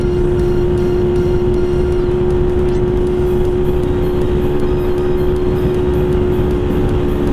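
A 2011 Honda Wave 125R motorcycle rides at steady speed, its engine drone loud and constant with a sustained whining tone and heavy wind rush throughout.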